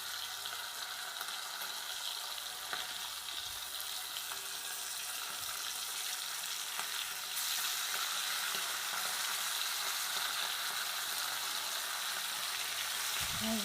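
Pieces of hilsa fish fry in hot oil in a pan with a steady, dense sizzle that runs unbroken from start to finish, close and alone with no voices.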